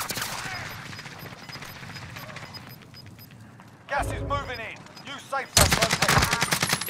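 Gunfire crackles in a battle royale video game match, rapid automatic bursts in the distance at first, then louder close shots near the end, with players talking over it.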